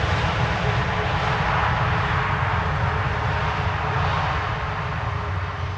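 Delta A330neo airliner at Schiphol Airport, a steady broad roar of jet engines with a low rumble, continuous and fairly loud with no voices.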